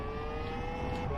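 A high-revving V12 race car engine in the video game Scrap Mechanic screams continuously with a steady, buzzing whine, loud and close throughout.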